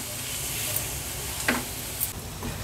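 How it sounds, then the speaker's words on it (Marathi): Onion and ginger-garlic crush sauté on a medium flame, giving a soft, steady sizzle with a few light clicks and scrapes of stirring. "कांदा आणि आलं लसूण क्रश आपल्याला आता शिजवून घ्यायचं आहे।"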